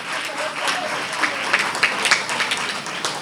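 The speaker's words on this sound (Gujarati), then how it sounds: "રાજેશભાઈનું તાળીઓ પાડો, કરકસર નહીં કરો." Audience applause at a Stri Mandal foundation-day celebration in honour of a guest named Rajeshbhai, a steady wash of many hands clapping at moderate loudness for a few seconds with no speech over it.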